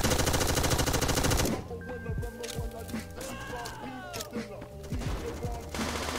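Rapid minigun fire in a first-person shooter game, a loud dense burst at the start giving way to scattered gunshots and game sound effects across a busy match.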